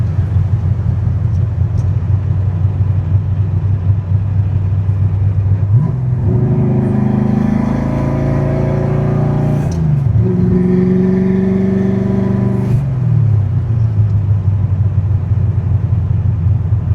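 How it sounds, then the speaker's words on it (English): A car with a manual transmission and an ongoing fourth-gear fault, rattling as if it held rocks. A steady, loud engine drone rises in pitch midway, then settles back, with no talk. "something with fourth gear. It just sounds like it's got rocks in it."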